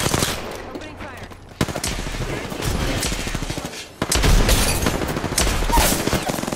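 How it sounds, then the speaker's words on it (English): Rapid automatic gunfire in the battle royale game Apex Legends, dense loud bursts with a brief pause, then continuing volleys, close and harsh, with no talk over it. "Opening fire"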